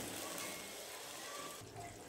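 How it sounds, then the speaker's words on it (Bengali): Water gushes steadily into a pot of bata fish curry cooking with kasuri methi on a gas stove, a continuous faint pouring rush. "জল দিলাম, এটা ফুটবে কিছুক্ষণ।"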